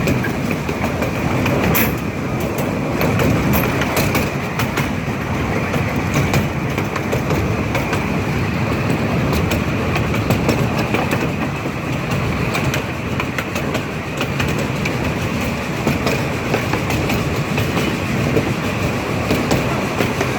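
Riverside and Great Northern pumpkin train led by locomotive 98 rolling on rails, a steady broadband rumble of wheels and cars with faint clicking, continuous and moderately close throughout with no talk.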